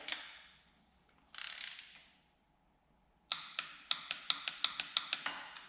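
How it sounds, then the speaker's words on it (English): A ratcheting torque wrench tightens Loctite-coated bolts to 18 foot-pounds on a CUCV military truck, with brief rustling, then a rapid series of sharp, close clicks at a steady rhythm. "I'll take them to the recommended 18 foot-pounds of torque."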